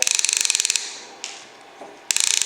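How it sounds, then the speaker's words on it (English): Rapid mechanical clicking from a Penn Squall fishing reel's clicker ratchet in free spool, a fast even burst, a pause with faint rustling, then another quick run of clicks, close and crisp. "if you click this in place, you can, the reel will make noise when it comes out"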